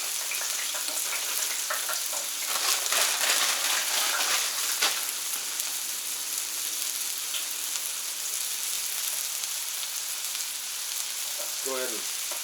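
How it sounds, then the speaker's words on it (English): Waffle fries frying on a Camp Chef FTG600 flat top grill, outdoors in record cold of -23F, giving a steady, loud sizzle that holds throughout, with a faint voice near the end. "We'll go ahead and drop the waffle fries."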